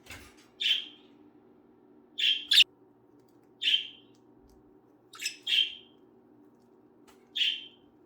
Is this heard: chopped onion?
no